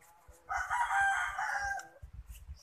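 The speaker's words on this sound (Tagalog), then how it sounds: "So papasensya nyo na yung mga manok." A rooster crows once, loud and drawn out, over faint low clucking and scratching from nearby chickens in a mountain setting.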